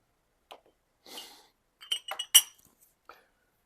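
Glass jar of homemade chili sauce, its lid clinking and tapping in a few sharp, close knocks with short pauses between them, no voices.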